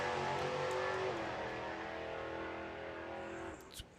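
A drag racing pickup truck's engine roars loud and close at an outlaw street drag meet, a steady high-revving drone that gradually fades as it pulls away, ending with a brief click.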